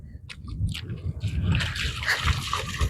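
Lake water splashes and sloshes irregularly at close range as a person wades into a cold lake for a wild swim, with no talk.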